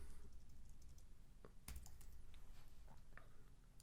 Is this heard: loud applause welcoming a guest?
no